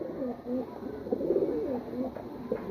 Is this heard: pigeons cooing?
yes